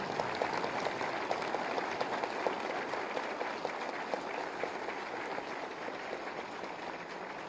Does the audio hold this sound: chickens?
no